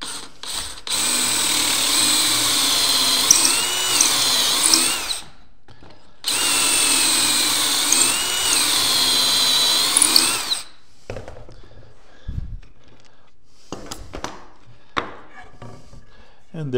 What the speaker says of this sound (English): And there's our pocket holes drilled just like that.